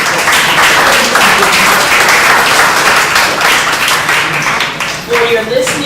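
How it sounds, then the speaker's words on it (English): Graduation audience applauds in a loud, dense wash of clapping that carries on steadily, with a voice briefly heard near the end. "they deserve a big round of applause at this"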